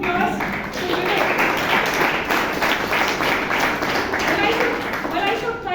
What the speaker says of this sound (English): Let's give a huge round of applause to Vivek.